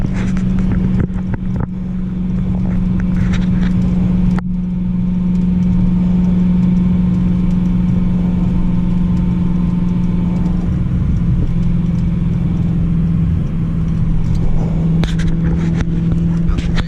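A 700-horsepower 2017 Dodge Challenger Hellcat cruising on the road, its engine a steady low rumble that drones on without a break for the whole stretch, heard from inside the car.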